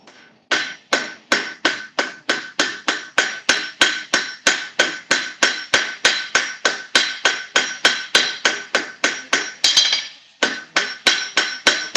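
Steady, ringing hammer blows on an anvil as hot metal stock is forged, about three strikes per second, loud and close, with one brief pause near the end before the rhythm resumes.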